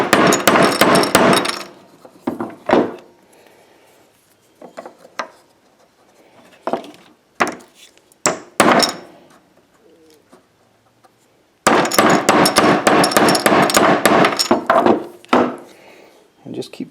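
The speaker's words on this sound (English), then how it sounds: "take a ball peen hammer" Ball peen hammer striking a metal spoon blank resting on wood, a series of sharp close knocks in bursts, some rapid runs and some single spaced hits, with quiet gaps between.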